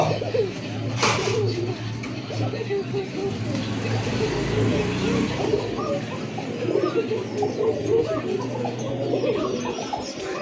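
Pigeons cooing at a pigeon sale, soft low coos mixed with other birds under steady talk from people nearby, with passing traffic in the background.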